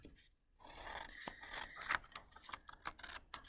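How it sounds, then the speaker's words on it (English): Scissors snipping through the paper handle of a paper lantern, several close dry cuts and rustling paper scrapes in quick succession, quiet and without talking. "First step is to cut off the handle. So we're going to cut off our handle."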